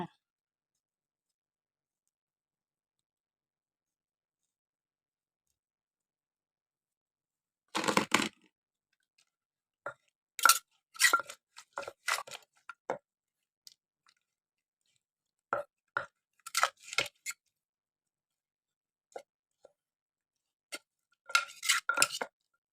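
Someone eats Thai papaya salad with rice noodles and pork sausage up close, making short bursts of crunchy chewing separated by stretches of near silence, with a few sharper clicks mixed in.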